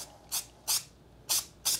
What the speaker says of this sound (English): Spray it evenly all throughout